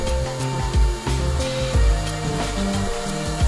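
A ZIPPO plastic welding extruder running while welding a seam on an installed pool, heard as a loud, continuous motor whine and hiss with shifting tones and a few periodic thumps.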